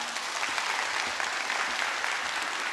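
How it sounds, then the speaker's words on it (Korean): A Sunday worship congregation applauds to welcome a guest preacher, a dense, continuous wash of many hands clapping at even volume, slightly distant in a large room. "큰 박수로 모시겠습니다"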